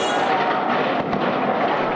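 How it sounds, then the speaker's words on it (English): Gunshots crack at night during street fighting around Tahrir Square in Cairo, a rapid cluster of sharp reports set against a steady crowd din, with a few louder bangs near the middle. "After nightfall, gunshots can be heard."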